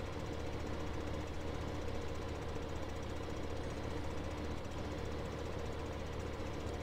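Tractor engine in Farming Simulator 15 running steadily while mowing, a constant dense drone with an even mechanical chug, moderately loud throughout and with no talk.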